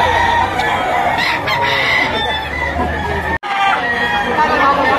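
Several roosters crow loudly over clucking chickens at an auction, with a busy yard of birds calling close by and a brief gap near the end.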